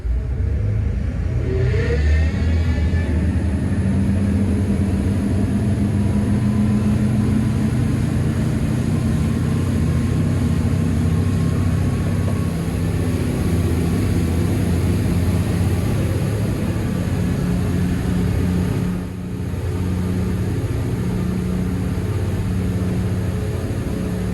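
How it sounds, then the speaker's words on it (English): Powerful twin marine engines of a Cranchi M44 HT motor yacht roar continuously at full throttle on the plane, around 3,600 RPM and 32 knots into the wind, a dense, steady drone with a slight dip near the end. "We're going to full throttle acceleration on the plane here."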